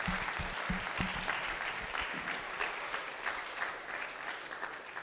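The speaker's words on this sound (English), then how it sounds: "Let's give our speakers one more round of applause" Audience applause for speakers at a running camp session, a dense, sustained patter of many hands clapping at moderate distance, fairly even in level from start to finish.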